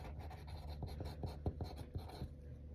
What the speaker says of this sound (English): So I'm going to go ahead and write